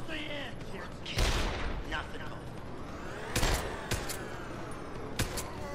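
Gunshots in the video game Deus Ex: Human Revolution. Several sharp, loud shots and short bursts ring out in irregular bunches against a low, busy backdrop.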